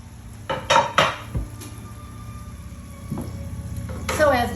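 Metal pans and a flour container knocked and slid across a kitchen counter, several clattering bumps with faint sizzling from searing meat beneath, close by.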